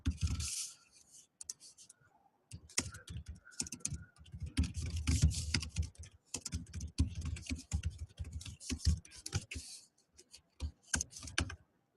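Typing on a Mac computer keyboard, with rapid irregular bursts of clicking keystrokes close by, pausing briefly and then resuming in quick flurries.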